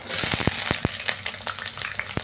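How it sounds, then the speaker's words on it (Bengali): Diced potatoes frying in a kadai: a dense, continuous sizzle and crackle with sharp popping snaps throughout, close and fairly loud, no talking. "এবার আমি লাল লাল করে আলুগুলোকে ভেজে নেব, সেই জন্য আমি কড়াই তুলে দিয়েছি।"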